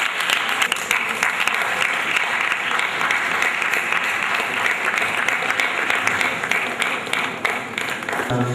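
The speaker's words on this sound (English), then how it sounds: "Please, a round of applause for him." An audience at the annual distinguished lecture of the Nigerian Institute of Quantity Surveyors claps steadily, producing dense, even applause that fills the room at constant loudness for several seconds.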